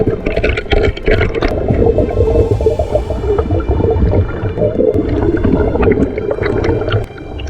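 A small waterfall on an Australian river pours steadily nearby, a loud continuous gurgling rush of water with splashing bursts and no talk.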